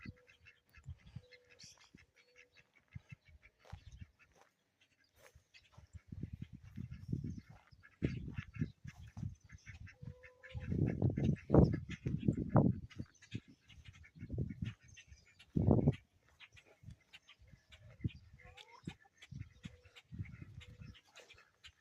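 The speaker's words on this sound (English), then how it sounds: "Oh, the ducks are coming out too." Ducks quack in scattered bursts, some close and loud, others fainter, over a quiet outdoor background with occasional soft bird calls.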